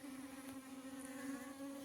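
Honeybees hover around a knocked-down hive at a cattle shed, a steady, close, droning buzz that holds without a break.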